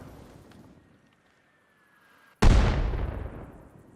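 An AI-crewed mortar fires in Arma Reforger, one sudden heavy boom after near silence, followed by a long rumbling decay.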